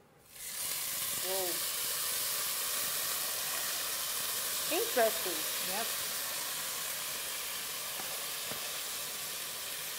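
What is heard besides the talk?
rice frying in hot oil with browned spaghetti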